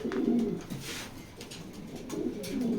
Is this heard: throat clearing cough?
no